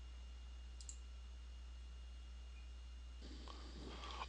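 A computer mouse clicks twice quickly near the start to launch the Elder Scrolls Online game, faint over a steady low hum, followed later by soft rustling and handling noise.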